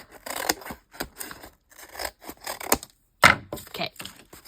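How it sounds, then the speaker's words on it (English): Scissors cut paper for a junk journal in a quick series of close, crisp snips and rustles, with a short pause before a final louder cut. "let's cut this down"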